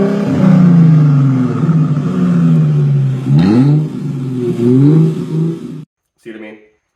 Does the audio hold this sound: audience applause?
no